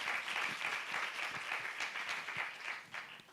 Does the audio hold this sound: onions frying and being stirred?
no